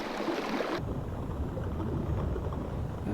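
Virtual cube in an augmented-reality scene giving off a water effect, a soft continuous rushing and sloshing whose brighter upper layer cuts out abruptly early on, leaving a lower, duller flow.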